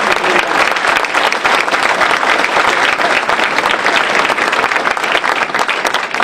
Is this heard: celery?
no